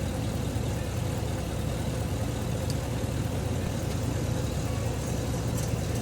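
A 2012-2019 Chevy Express 6.0L van engine idles warm with a steady, low, unchanging hum close by, no other sounds standing out.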